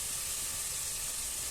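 Vegetables for a veg biryani fry in a pan with a steady, dense sizzle and hiss that holds evenly throughout, close and without talk.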